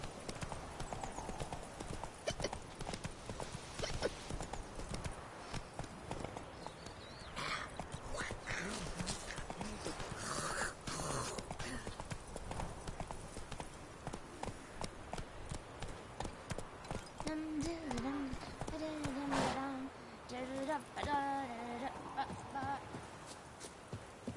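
Roach, Geralt's horse in The Witcher 3, gallops with rapid rhythmic hoofbeats, close and continuous, while voices speak over the running.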